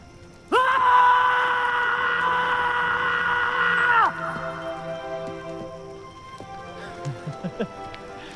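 In a Hindi film scene, people scream loudly in one long, strained cry of several seconds, close and forceful, which then falls into quieter, scattered sounds.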